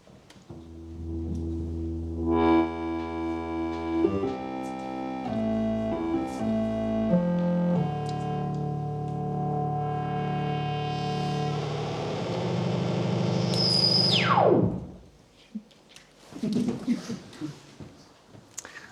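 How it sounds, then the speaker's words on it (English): A vintage Korg MS-20 analog synthesizer plays a sustained, buzzy, stepping melodic line, then a rising filtered sweep that squeals up high and cuts off, followed by quieter scattered noises. "So that was the sound of the MS-20"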